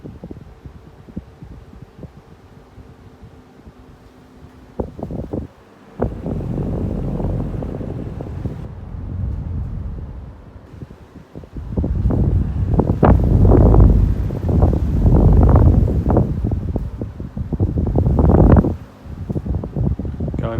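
Two Xpelair Taurus T12 12-inch desk fans, one grey and one brown, blow close to the microphone, giving a low, gusty rush of airflow that swells louder after a quieter stretch.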